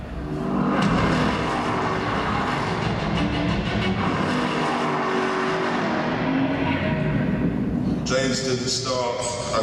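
On an arena stage at a live motoring show, a car engine revs loudly while left out of drive, a sustained roaring rev over crowd noise that continues throughout, with a voice cutting in near the end.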